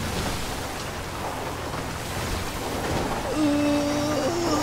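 Steady rain in the video game GTA 5 pours down in a continuous hiss, even and fairly loud throughout, with a faint tonal hum rising near the end.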